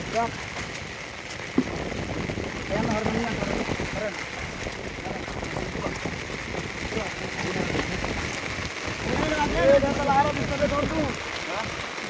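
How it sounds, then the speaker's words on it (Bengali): Heavy rain falls steadily outdoors, a continuous broadband wash at moderate level, with people talking over it throughout and a brief knock partway through. "প্রচুর বৃষ্টি হইতেছে।"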